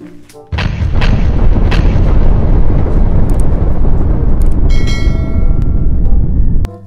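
A toy-gun game with a thrown grenade: a loud, sustained explosion-like boom and rumble begins abruptly, rolls on for about six seconds with crackling, then cuts off sharply.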